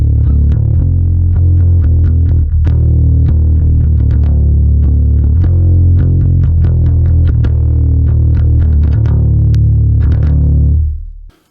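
Bass guitar played through the Neural DSP Darkglass Ultra plugin with heavy drive, giving a thick, gritty distorted tone in a steady run of plucked notes that rings out and stops at the end.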